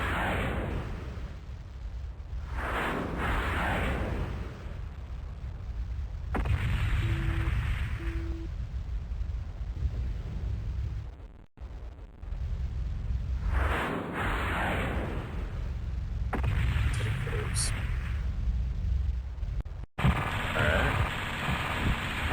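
Repeated explosions and booming blasts from a mech combat video game, in heavy rumbling bursts over a continuous noisy battle din, with a few short electronic tones and brief dropouts.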